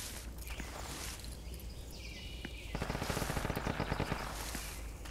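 Rapid gunfire in the military shooter Project Reality: a burst of closely spaced, fairly faint shots in the middle stretch, set against ongoing battlefield noise with scattered single reports before and after.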